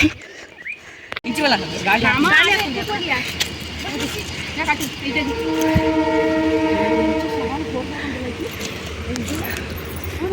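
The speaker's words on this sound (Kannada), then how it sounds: "train ಬರೋದುಂಡು guys" A train rumbles past near a railway tunnel with a long, sustained horn blast, while people talk excitedly over the clatter of the cars.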